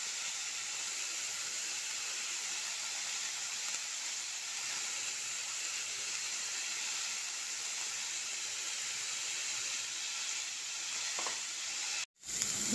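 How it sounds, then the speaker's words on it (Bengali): Mixed vegetables with turmeric and cumin powder sizzle in a pan, a continuous close hiss of frying that holds steady throughout before a brief dropout near the end. "দেখো সবজিটা হালকা ভাজা ভাজা হয়ে গেছে, সবজি আর মশলাটা"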